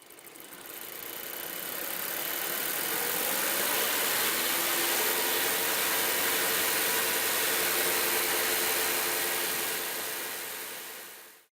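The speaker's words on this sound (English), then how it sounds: "The engine is running in the stoichiometric range." A gasoline port-injected engine running steadily at about 2500 RPM in the stoichiometric range, measured before the catalytic converter: a continuous, even engine drone that fades in and out, with no talking.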